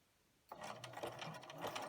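A sewing machine stitches a fleece strip, starting abruptly and running as a steady, close mechanical whir with a rapid needle rattle, faint and alone.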